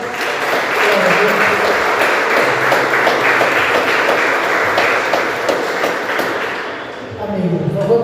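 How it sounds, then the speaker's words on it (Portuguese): Church congregation applauding vigorously during a worship service, a dense, loud wash of clapping that holds for several seconds before easing off as voices return. "Pode aplaudir o Senhor bem forte."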